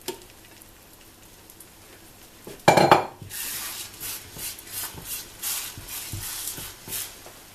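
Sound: moving potato omelette in a frying pan

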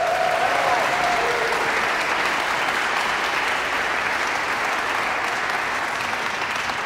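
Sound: audience applause at a concert hall

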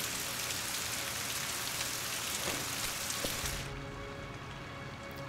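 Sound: rain falling in video game Rise of the Tomb Raider

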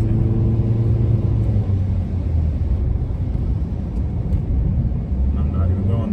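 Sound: car driving on a road

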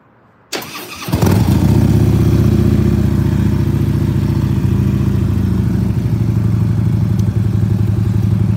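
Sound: Harley Davidson Road King motorcycle engine running

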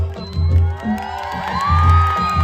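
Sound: crowd cheering and whooping

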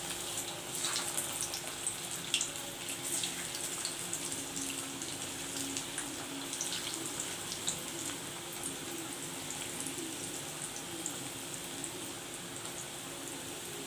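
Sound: alu vadi (colocasia leaf fritters) deep-frying in hot oil

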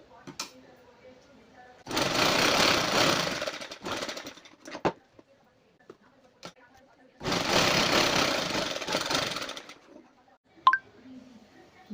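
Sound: sewing machine stitching tucks on a kurti

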